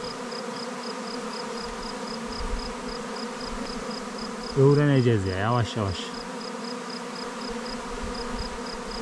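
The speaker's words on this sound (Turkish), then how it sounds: "Ama dünyanın arısı gitmiş ya." Bees swarm around a beehive at a highland village, making a steady, close insect buzz that continues throughout, while someone speaks briefly in the middle.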